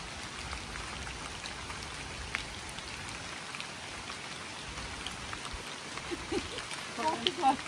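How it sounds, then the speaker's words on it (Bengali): Rain falls steadily outdoors in a continuous soft patter of drops, fairly faint and even, with a few louder drips near the end. "বৃষ্টি করতেছে।"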